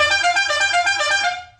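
A Peugeot 205 Turbo horn blares in one sustained, loud, steady tone for over a second before fading out, with no voices over it.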